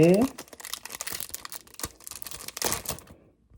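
A golden Brawl Stars card pack being opened: crisp crinkling and tearing of the wrapper in quick, scratchy bursts, close up, with a brief voice at the start before the rustling trails off into quiet.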